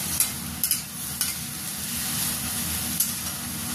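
Broccoli, sweet corn, mushrooms and capsicum fry in a pan with a steady, close sizzle, and the spatula scrapes and stirs now and then in short knocks.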